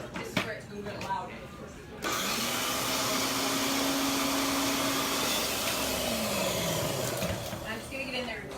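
A food processor whirs on loudly, mixing cookie dough with vanilla extract, a steady close motor roar for several seconds after brief clatter, then slowing down; a voice is heard before it starts.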